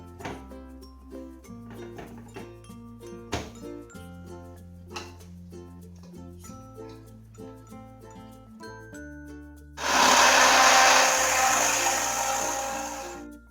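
Background music plays, then a blender roars on loudly, grinding banana milkshake steadily for several seconds before easing slightly toward the end.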